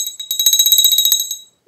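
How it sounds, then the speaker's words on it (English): A small bell decorated with red dice rings out as a rapid, bright metallic trill of about a dozen strikes, loud and close, then stops abruptly before a brief unrelated sound at the end. "I should have rang the other bell. This is what this one sounds like."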